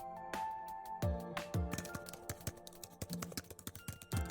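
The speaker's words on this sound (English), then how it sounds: "My fingers glided across the keyboard with ease, typing up a storm" Keyboard typing effect in the Love Bakudan visual novel, a rapid run of crisp key clicks that starts sparse and speeds into a fast, steady clatter over a soft musical tone, with no voice.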